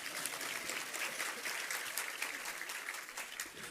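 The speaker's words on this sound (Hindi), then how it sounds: "धीरे धीरे ताली बजाओ" An audience at a Hindi-language discourse applauds in a steady, even wash of many hands clapping at once. The clapping stays moderately loud throughout with no talk over it.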